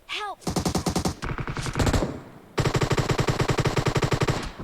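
Automatic gunfire in the mobile battle game PUBG Mobile, with rapid bursts of sharp shots fired close and loud, a brief pause, then a longer sustained burst.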